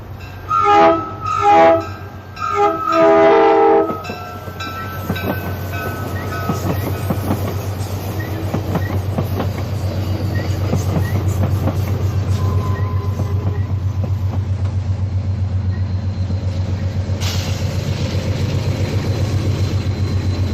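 An Amtrak passenger train on the Surfline route in Southern California sounds a series of loud horn blasts, then rumbles past with steady clickety-clack of wheels on rail that persists to the end.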